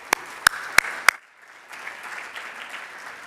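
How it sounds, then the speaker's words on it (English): Audience applause for youth participants at an annual meeting session, opening with four sharp separate claps and then a spread-out, moderate patter of clapping from a crowd. "Please give them all another round of applause"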